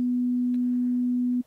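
A steady pure sine tone from an oscillator in the Massive software synthesizer, a single sustained low-mid pitch holding evenly for over a second before cutting off abruptly, alone and clean.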